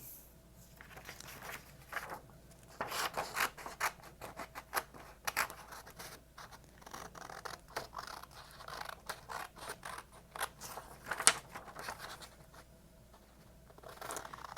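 Scissors snipping through paper in a quiet room, soft irregular cuts and scraping strokes repeating at close range with short pauses between them.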